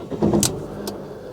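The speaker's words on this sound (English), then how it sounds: "Now we're going to hope start the engine actually." A Fiat 500 Sport, a salvage car with 36,000 miles, starts up: a brief cranking burst settles into a steady engine idle that carries on to the end, with a short sharp click partway through and no talk.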